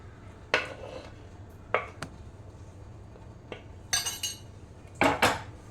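Spoon clinking and scraping against a bowl while spices are mixed for paneer tikka, a few brief scattered clatters with quiet gaps between them.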